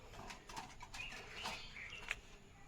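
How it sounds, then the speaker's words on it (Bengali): Pigeons feeding overhead while animals are fed outdoors, giving faint scattered chirps and soft coos with light wing movement over a quiet background. "এই যে পায়রাটা উপরে খাচ্ছে"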